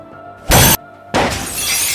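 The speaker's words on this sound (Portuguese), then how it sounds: "ele quebrou o vidro da porta com uma batida com as costas dele" A glass door pane shattering after a hard knock from someone's back, a sharp loud crash followed by a short gap, then a second burst of breaking glass with scattering shards trailing off.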